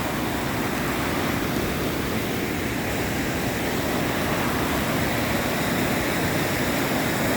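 A flooded side arm of a creek running high, a loud continuous roar of rushing water, broad and unbroken with no voices.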